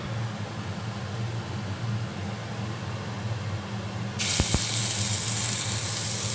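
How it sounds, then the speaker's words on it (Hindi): Spice paste for Bengali bhoger khichuri dropped into a hot pan over high flame, bursting into a loud, steady broadband sizzle partway through, after a constant background hiss and hum. "अब हम इसमें जो हमारा पेस्ट है वो डालेंगे।"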